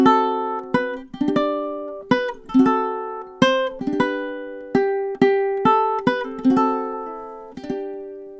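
Ukulele plays measures 15 to 18 of a Christmas melody alone, a clear sequence of plucked notes and strummed chords with ringing decays, steady moderate rhythm and close, bright tone.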